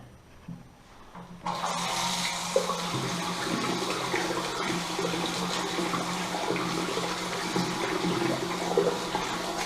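Water pours from a newly installed standing mixer tap into a washbasin, starting after a quiet second and then rushing steadily and fairly loud for the rest of the stretch.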